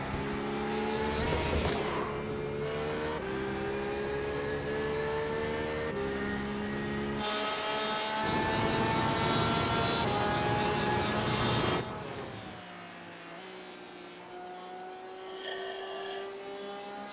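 A race car engine in the sim racing game iRacing roars at full throttle, its rising whine climbing steadily, then breaking off and climbing again with each upshift before easing off toward the end.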